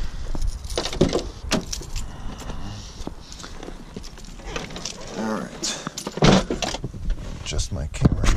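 Someone gets into a BMW E36 M3, with keys jangling, a door and seat moving, and clicks and rustles nearby. A voice speaks briefly between the handling sounds.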